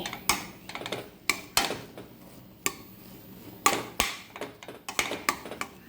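A utensil knocks and scrapes against a pan as upma is mixed with coconut, producing irregular clinks and taps close by, with no talk.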